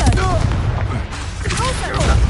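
Confringo explosive spell cast in the video game Hogwarts Legacy, producing sharp booming blasts amid chaotic combat effects, loud and close, with voices talking over the action.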